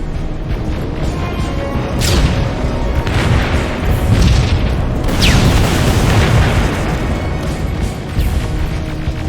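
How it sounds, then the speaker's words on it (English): Incoming rockets exploding in Terminator: Resistance, loud heavy booms, several blasts with bursts around two, four and five seconds over a dense rumbling background, with no speech. "Rockets! They're heading this way!"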